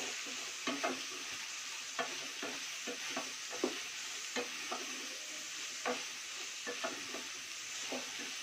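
Cubed onions frying and stirred with vegetables in a pan for fried rice: a steady sizzle underlies repeated scraping strokes of a spatula, close and alone.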